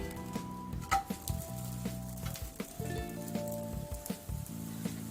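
A ragi roti fries on a hot pan, giving a steady sizzle with soft crackles and pops throughout, close and moderately loud, with no one talking.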